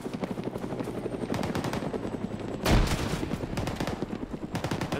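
Gunfire in an Arma video game firefight, dense rapid bursts of automatic rifle fire with one louder blast near the middle, over a continuous helicopter rotor drone.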